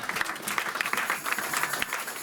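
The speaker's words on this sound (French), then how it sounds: "donnons quand même une acclamation" Applause and cheering from a church congregation during a pastor's sermon, a dense steady roar of many hands clapping with scattered louder claps, filling the whole short moment at close range.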